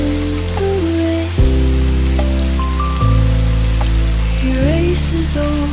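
Rain at a seaside cafe makes a soft, constant patter beneath sustained music chords that change every second or so.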